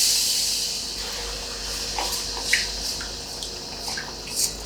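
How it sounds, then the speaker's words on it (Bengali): Water is poured into a cooking pot of rice and spices for a Bengali potol and fragrant rice dish, giving a steady hissing stream with a few scattered drips and splashes, close and fairly loud, with no talking. "এবার আমি জলটা অ্যাড করছি।"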